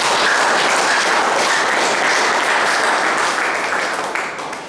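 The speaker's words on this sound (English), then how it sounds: "Can you give a round of applause?" A crowd at a speech breaks into a round of applause, dense steady clapping from many hands that holds loud throughout and starts to thin out toward the end.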